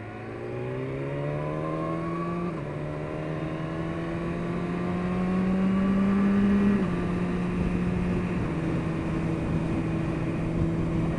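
A 2017 BMW S1000RR motorcycle engine accelerating hard on a ride, its steady harmonic whine climbing in pitch through successive gear changes, loud and continuous with wind noise underneath.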